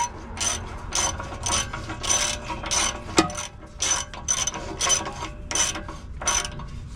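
A hand ratchet tightening a bolt on a car's exhaust downpipe with catalytic converters, rapid bursts of close clicking repeated in a steady rhythm with short pauses between strokes.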